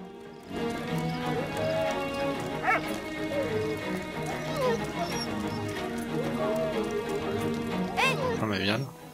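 A dog barks and whimpers in the World War I video game Soldats Inconnus: Mémoires de la Grande Guerre. Scattered yelps and whines rise over game music while a person talks throughout.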